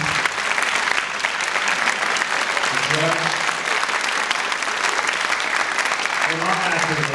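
A school audience at a drive-responsibly assembly applauds steadily, a dense continuous clapping crowd filling the space, with brief voices heard underneath.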